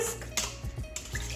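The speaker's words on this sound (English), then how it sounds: "Whisk." Egg, milk and melted butter whisked in a bowl for apple crisp muffins, quick clinking taps of a whisk against the bowl, close and irregular.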